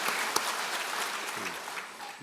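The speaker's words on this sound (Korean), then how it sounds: "박수 보냅시다." Steady clapping fills a church during an Easter union worship service, a dense crowd applause heard up close for a couple of seconds, with a faint voice underneath.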